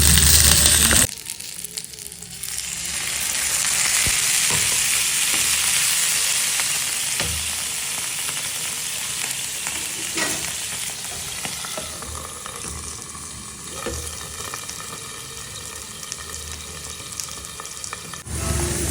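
Frozen momos sizzling in a pan right after water is added, a loud burst of steam and hiss that settles into a steady, slightly softer frying sizzle, close and alone.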